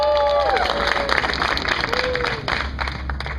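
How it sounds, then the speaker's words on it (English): Crowd at a Halloween Horror Nights 21 tweetup presentation applauds and cheers as TJ is welcomed to the stage: a steady wash of clapping, with a few whistles and shouts rising above it near the start. "Round of applause for TJ, guys."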